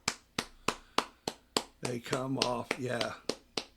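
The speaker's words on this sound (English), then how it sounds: "to get their applause from their teammates on the sideline" Scattered sharp claps from teammates on the sideline at a high school girls soccer state final in Missouri, loud and close, arriving in an uneven rhythm with a brief stretch of talking in the middle.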